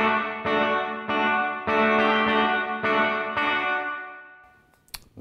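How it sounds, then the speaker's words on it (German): Electric guitar played through a hall reverb effect simulating a large hall: five strummed chords in a steady rhythm, each ringing out with a long, lush decay that lingers and fades into a tail, loud and close with no talking. "Hall, das ist halt diese große Halle."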